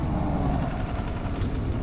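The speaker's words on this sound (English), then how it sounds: "the tractor is making funny noises" Tractor engine in a farming video game, making odd noises: a continuous low, rumbling drone that stays loud and close throughout.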